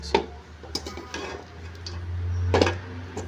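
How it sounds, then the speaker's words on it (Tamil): A spoon stirs idli upma with onions in a pan, giving a few sharp, close scrapes and taps against the metal over a steady low hum, with quieter soft shuffling between the strikes. "நல்லா கிண்டி விட்டுக்கலாம்"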